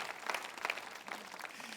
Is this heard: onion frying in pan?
no